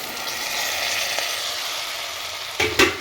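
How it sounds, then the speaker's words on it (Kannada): Sprouted chickpeas frying in hot oil in a pan for chickpea usli, a steady close sizzle with a couple of louder stirring scrapes near the end and no talking. "ಆಯಿಲಲ್ಲಿ ಸ್ವಲ್ಪ ಫ್ರೈ ಮಾಡ್ಕೊಂಡ ನಂತರ ಕಾಳುಗಳನ್ನೆಲ್ಲ ಇದಕ್ಕೆ ಹಾಕ್ಕೊಳ್ಳಿ"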